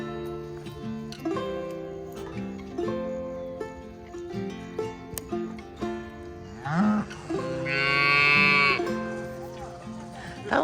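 A hungry young calf on a dairy farm gives a loud, drawn-out bawling moo near the end, after a stretch of mixed farm noise and background music.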